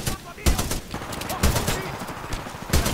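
Rapid gunfire bursts from a frenetic shooter video game, with sharp shots recurring every second or so over a busy, continuous backdrop of game noise.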